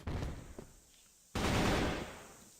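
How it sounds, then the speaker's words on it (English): Bursts of rapid video-game gunfire, a short volley followed by a louder sustained barrage that slowly fades. "Gunfire going down either side"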